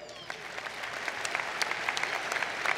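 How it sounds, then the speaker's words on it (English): Applause for an alumni network president at a 2018 engineering undergraduate commencement ceremony, a steady crowd clapping throughout with scattered sharper claps, moderately loud and sustained. "give her a round of applause"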